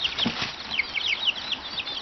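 Chickens cluck and peep in rapid, overlapping high chirps, close by and continuous.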